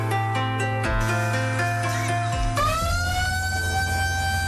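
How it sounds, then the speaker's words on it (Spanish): A loud, sustained siren of a three-deck riverboat in the Amazon blares with layered harmonic tones that shift pitch midway, continuous and close, with no talking. "El sonido de la sirena de una barcaza de 3 pisos anuncia el inicio de la travesía"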